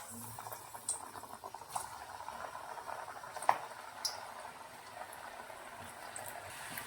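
Kodubale, ring-shaped rice-flour snack dough for a festival, sizzles in hot oil as a steady, close bubbling fry, with a few faint clinks and small pops and no speech.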